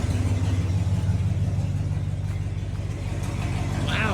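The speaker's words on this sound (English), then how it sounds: "it's idling a lot better than usual" Gasoline V8 of a 1992-97 Ford F-250 pickup idling after a fuel filter change, a steady low rumble with a faint periodic throb, heard nearby at moderate level with no talk.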